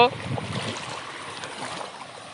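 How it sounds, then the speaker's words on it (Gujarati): Rainwater rushing in full flood through a village street during heavy monsoon rain in Amreli district, a steady broadband wash of flowing water running throughout, with voices talking briefly at the start. "પાણી ફૂલે ફૂલ આવે છે"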